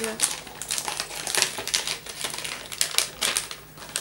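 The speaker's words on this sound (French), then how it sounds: "Je vais enlever le papier bulle" Bubble wrap being pulled off a gift box, heard as dense, close crinkling and crackling of plastic with quick rustles, while a person talks over the handling.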